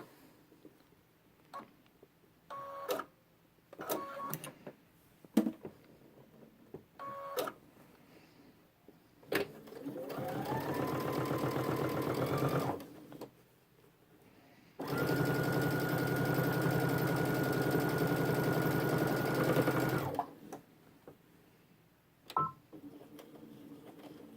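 Sewing machine stitching backpack side panels, with short bursts and taps early on, then two sustained runs of steady mechanical whirring, nearby and fairly loud, separated by a brief pause.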